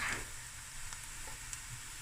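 Food fries in a pan while cooking prawn akhni, giving a soft, steady sizzle with a brief louder crackle at the start and faint clinks along the way.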